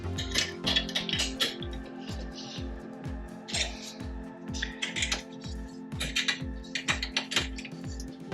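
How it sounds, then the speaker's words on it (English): A wrench ratchets steadily while tightening a HUANUO monitor stand riser, giving a rapid, even train of close clicks with brighter metallic clinks over a faint background hum. "nice that it comes with a wrench, so we'll just make it"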